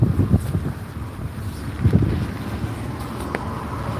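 Outdoor wind gusting against a new market vendor tent at a craft sale in Atlanta, a steady rumbling buffet with low flapping bursts and no voices.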